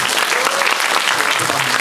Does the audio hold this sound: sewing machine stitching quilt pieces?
no